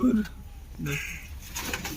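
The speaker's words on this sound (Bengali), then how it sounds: "কি সুন্দর পায়রাগুলো" A short, low pigeon coo opens the moment, followed by softer rustling and murmuring noise, with some voice-like sound in the mix.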